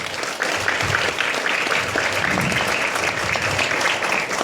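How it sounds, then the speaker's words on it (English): A crowd applauds steadily, dense clapping filling the room for several seconds at an even, sustained level. "let's give all our uplines a big round of applause."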